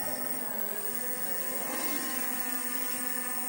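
H16 toy drone lifting off on its own inside a house, a thin high-pitched whine of small propellers holding steady at moderate volume, with no talk.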